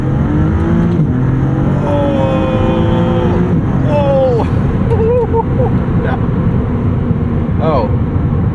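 A 2022 Maserati MC20 supercar accelerates hard on a backroad, its engine note climbing through rising sweeps with sharp shifts between them, loud and close from start to finish.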